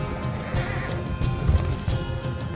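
Horse neighing in the video game Red Dead Redemption 2, a moderate whinny amid hoof clops and game ambience, with no talk over it.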